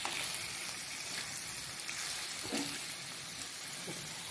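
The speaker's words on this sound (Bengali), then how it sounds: "সরানো জায়গায় করে এইসব আমি চামচ দিয়ে দিয়ে আস্তে আস্তে চিকেনগুলোকে এইভাবে পাল্টি করে দিচ্ছি" Chicken chaap pieces coated in spice masala sizzle steadily in a frying pan as they are slowly turned with a spoon, giving a soft, even hiss with a few faint scraping touches, no voices.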